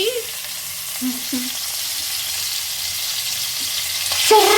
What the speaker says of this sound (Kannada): ಎಣ್ಣೆ ಹಾಕಿದ ತಕ್ಷಣ ಸೌಂಡ್ ಬರುತ್ತದೆ